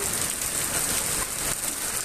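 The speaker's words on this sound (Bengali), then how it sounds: "কত সুন্দর বৃষ্টিটা পড়ছে দেখতেই পাচ্ছ তোমরা সবাই" Heavy rain falls after a long hot spell, a thick, steady hiss and patter of drops on surfaces, close and continuous with no voices over it.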